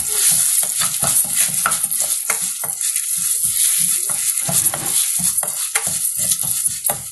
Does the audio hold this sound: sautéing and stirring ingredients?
yes